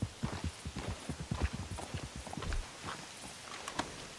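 Horse hooves clip-clopping at an unhurried walk, a steady run of distinct clops at moderate distance and fairly faint, with no talk.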